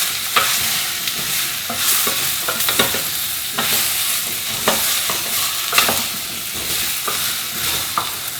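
Potato being stirred into a pot of spiced celeriac soup base, a loud, steady sizzle with continuous scraping and clattering of a spoon against the pot.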